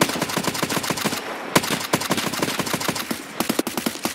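Escape from Tarkov gunfire: rapid bursts of loud, close automatic shots in a dense rhythm, with a brief pause partway through and no talk.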